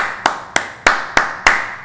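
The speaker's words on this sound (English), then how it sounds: "I want to start with an applause" One person clapping hands five times in a slow, even rhythm, each clap sharp, close and loud against a quiet room.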